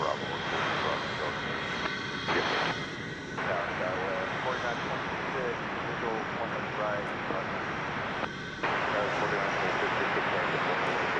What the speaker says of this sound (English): there's another Embraer 170 coming in from Jackson, Mississippi